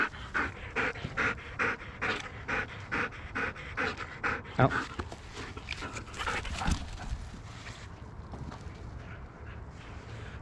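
Mikey the dog pants rapidly and loudly close by, a steady rhythmic string of breaths that grows rougher and fainter toward the end, with a single brief spoken word.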